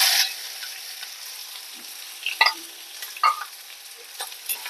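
Chopped onion, chana dal and two red chillies sauté in hot oil with a soft, airy sizzle, punctuated by several sharp clinks and scrapes of a spatula stirring the pan; no one speaks.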